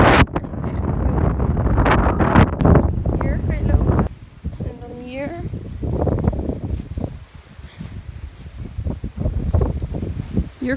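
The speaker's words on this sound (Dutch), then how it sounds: "Er staat heel veel wind" Strong wind on a beach in Curaçao buffeting the microphone in heavy, rumbling gusts, with people talking through much of it.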